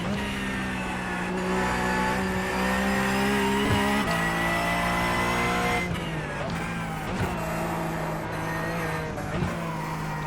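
A Porsche Cup race car on track at VIR, its engine rising in steady high-pitched pitch sweeps as it accelerates, then dropping at a shift or lift before climbing again. The sound is loud, constant and close, with no voices.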